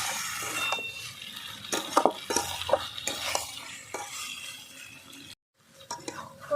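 Papaya and soybean curry sautéed and stirred in a pan, repeated close scraping and clattering stirs over a soft sizzle, with a brief pause near the end.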